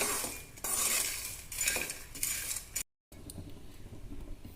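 Peanuts dry roasting in a pan for burfi, with a close rattle and scrape of the nuts being stirred, broken by a brief silent gap before quieter stirring resumes.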